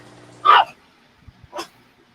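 A dog in a home where pet snakes are kept gives two short barks about a second apart, close and moderately loud, with faint background noise in between.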